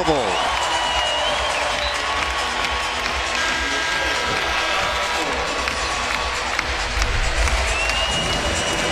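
A basketball arena crowd in Louisville during a Virginia Tech game, roaring and cheering loudly and continuously through a timeout, with the noise swelling near the end and voices audible within the din.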